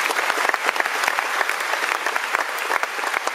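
Concert audience at the Francofolies festival in La Rochelle applauds steadily, a dense, continuous crackle of many hands clapping with scattered louder claps and no voices on top.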